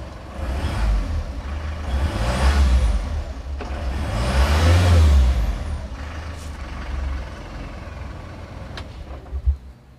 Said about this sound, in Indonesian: Coba kita nyalakan mesinnya. Suara mesinnya halus ya teman-teman, daripada Canter yang Euro 2.